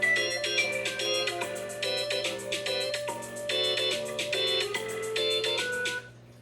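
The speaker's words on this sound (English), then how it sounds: "Excuse me, I'm gonna get this phone real quick." A phone ringtone sounds while rocks are being painted at home, a loud repeating melodic pattern that plays steadily for about six seconds before cutting off abruptly.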